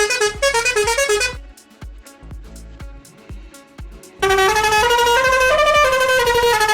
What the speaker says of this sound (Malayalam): ഓക്കെ, അങ്ങനെ ഡിഫറെൻറ്റ് ടൈപ്പ് ഓഫ് ഹോൺസ് ഉണ്ട്.